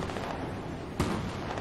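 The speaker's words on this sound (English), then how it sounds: "Oh yeah, I can hear the gunshots." Gunfire in a multiplayer shooter video game, a single sharp shot standing out near the middle against a steady din of distant battle noise.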